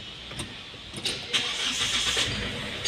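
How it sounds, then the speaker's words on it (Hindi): A diesel Hyundai Creta engine cranks and fires up during a general service, with a few short mechanical bursts before a steady, moderately loud run. "अब हम गाड़ी स्टार्ट करेंगे"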